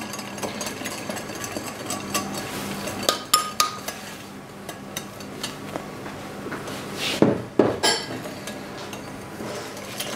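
A whisk or spoon working a flan mixture with added cornstarch in a bowl, a continuous scraping swirl punctuated by several sharp clinks against the bowl, close and fairly loud with no speech.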